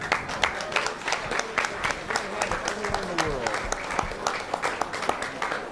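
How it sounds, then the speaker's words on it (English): An anniversary event crowd gives a round of applause, with lively scattered clapping and cheering that mixes with speech. The applause is moderately loud and continues throughout. "Let's give a round of applause."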